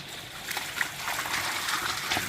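Mountain crabs are washed with water, producing a soft, steady trickle and slosh with faint splashes nearby.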